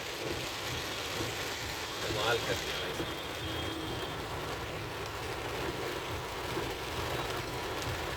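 Steady heavy monsoon rain hisses across the whole stretch in New Delhi, a broad constant wash, with a voice speaking briefly over it.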